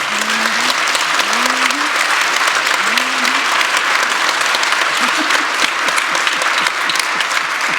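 Steady, dense applause from a large lecture audience fills the whole stretch, loud and continuous, with a few faint voices rising through it.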